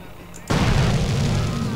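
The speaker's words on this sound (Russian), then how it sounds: "Поэтому просто их взорву гранатометом." A grenade launcher round explodes in GTA San Andreas, a sudden loud boom that cuts in and rolls into a sustained, roaring rumble for over a second.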